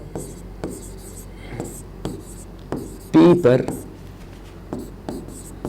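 Chalk or marker strokes on a board during a physics lesson, a run of short scratchy taps and squeaks, with a voice speaking over the writing.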